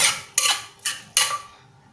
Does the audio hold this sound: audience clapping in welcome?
no